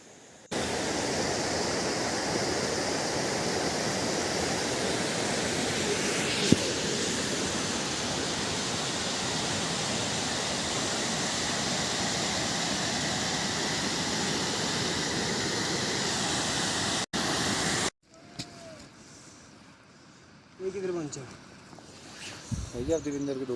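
A small mountain waterfall on the Shrikhand Mahadev trek in Himachal pours in a steady, loud, unbroken rush for most of the stretch before cutting to a quieter scene where voices talk.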